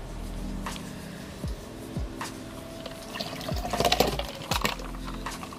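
Water pouring and splashing into a painting-with-water packet, with irregular trickles and a few louder sloshing bursts near the end, close and fairly quiet.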